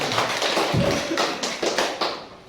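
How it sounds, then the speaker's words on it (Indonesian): A classroom crowd claps for a second-place prize winner at a school lesson, a dense, steady patter of many hands with a few louder bursts, fairly close, with no talk over it. "Berikan aplaus untuk Muhammad Fadil."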